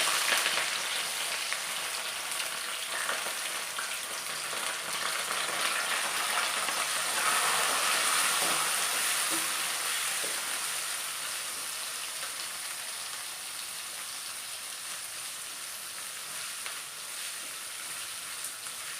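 Onion, green chili, garlic and curry leaves frying in oil for a cabbage poriyal, a soft continuous crackling hiss like light rain that stays fairly faint and slowly fades over about nineteen seconds, with no talking.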